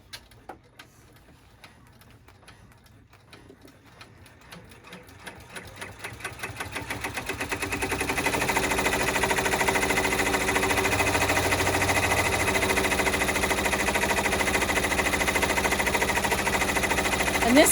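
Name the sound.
sewing machine stitching at 900 stitches per minute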